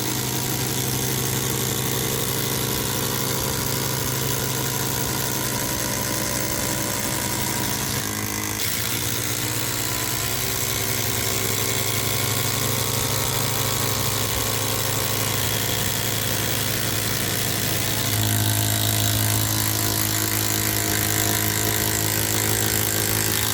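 Two Makita impact drivers, a 40-volt and an 18-volt, run side by side in a drag race, a loud steady motor whine held for the whole stretch with a brief dip and a surge near the end.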